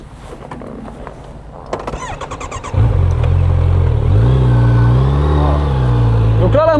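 A motorcycle engine rises into a loud, steady roar with shifting pitch as the bike rides and leans during a riding lesson, starting quieter with some talk-like sounds beforehand.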